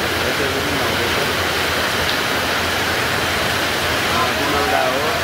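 Rain pours down in a steady, dense hiss that stays even and fairly loud throughout, with no clear voices.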